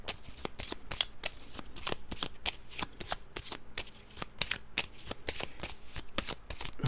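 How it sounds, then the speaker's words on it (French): Fog of war cards for a board game being shuffled, a rapid series of crisp riffling bursts repeating steadily throughout, close and clear with no talking. "Je vais les brasser pour être sûr que ça soit bien mélangé"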